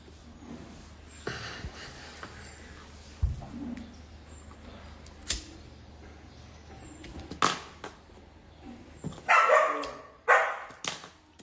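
Dogs bark indoors at a home in scattered sharp bursts over a low background hum, growing louder and more frequent toward the end.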